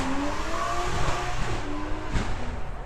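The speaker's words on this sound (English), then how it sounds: "So the reason why you can hear is the drag strip is at the back where we are." A car accelerating hard on a drag strip behind a crowded motor-show display at the Goodwood Festival of Speed, its rising engine tones carrying from a distance over continuous background crowd and event noise.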